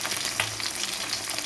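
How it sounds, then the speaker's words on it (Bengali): Bata fish fries in a pan of hot oil, giving a close, continuous crackling sizzle with no voices. "এই যে মাছ ভাজা বসিয়ে দিয়েছি,"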